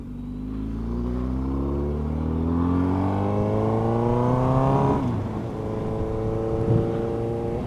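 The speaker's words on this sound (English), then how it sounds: "there's this baller turbo purple Porsche like right behind me" A turbo Porsche drives close by, its engine note rising and falling as it accelerates and passes, loud and continuous with no talking.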